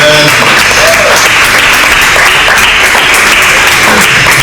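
A crowd gives a round of applause for women supporting women at a gathering: dense, loud, sustained clapping from many hands that fills the whole stretch at an even level.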